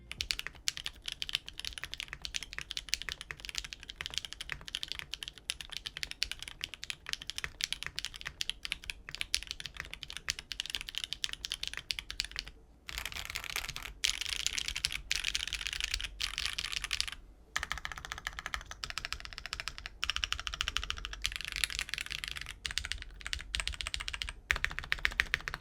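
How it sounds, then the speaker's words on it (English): Continuous fast typing on a Zoom 65 V3 mechanical keyboard with a 1.6mm PCB and case foam, crisp, close clacking keystrokes with brief pauses, no voice over it. "enjoy the rest of the typing test."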